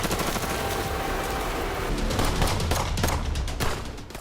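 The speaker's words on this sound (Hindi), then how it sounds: "मरियोपोल में दोनों तरफ से जबरदस्त फायरिंग हो रही है।" Heavy gunfire in street fighting in Mariupol, a dense continuous fusillade of overlapping shots and bursts, with sharper cracks standing out toward the end.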